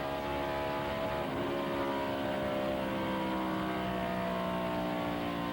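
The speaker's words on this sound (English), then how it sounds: "Boy, listen to that motor go down the back straightaway." A race car engine roars steadily down the back straightaway at Lowe's Motor Speedway during the 1999 Winston at Charlotte, a continuous loud drone with shifting pitch and no talk.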